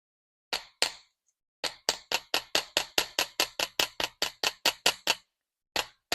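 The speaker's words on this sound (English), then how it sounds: "I want to hammer it first, about maybe ½ inch" Sharp metallic taps from a small hammer flattening jewelry wire, a few spaced strikes and then a quick, steady run of about fifteen even blows, close and clear.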